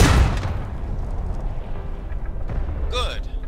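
A single loud cannon boom from an artillery piece in the Civil War game War of Rights opens sharply, then a long rumbling tail rolls on with distant battle noise behind it.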